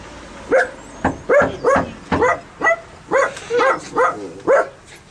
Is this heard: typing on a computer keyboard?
no